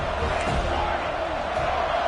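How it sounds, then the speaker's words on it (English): Stadium crowd in the NCAA 26 college football video game roaring on a third-down play, a dense, steady wall of cheering noise that holds loud throughout with no pauses. "3rd down and the crowd really getting into it"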